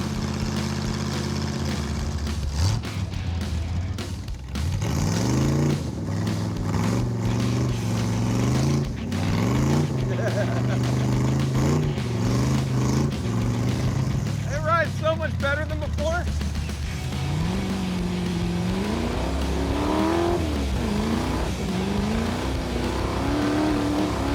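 A car with no windshield accelerates hard through second and third gear, its engine note climbing and dropping with each shift amid loud wind rush, while someone talks over it.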